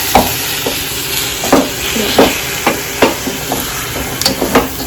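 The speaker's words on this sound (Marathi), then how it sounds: "ह्याच्यासोबत आता हिला पूर्ण कांद्यांसोबत मिक्स करायचं आहे" A spoon stirs cooked lakhori vegetable into onions in a pan over medium heat, giving repeated scraping strokes over a constant low sizzle, close and fairly loud, with no one talking.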